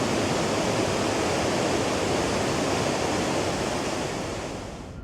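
Iffigenfall waterfall in the Simmental, Swiss mountains, a steady loud broadband roar of falling water, close and continuous, easing slightly at the end.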